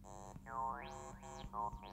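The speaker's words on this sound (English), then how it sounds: "there's your pure square, and that sounds nothing like a 303." A Caustic synth plays a pure square wave bassline, a few buzzy notes with filter sweeps rising and falling in a loose rhythm, heard alone with no voice.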